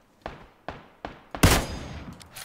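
Gunfire in a shooter video game: three evenly spaced single shots, then a louder, sustained crack that rings out and fades over about a second, with no talk over it.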